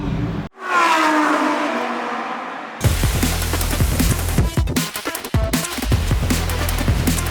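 A Lamborghini Huracán EVO engine revs in Corsa mode: a rising wail cuts off abruptly, then a deep, loud, throbbing engine roar follows with bursts and crackles. It is close and dominant, with no talk over it.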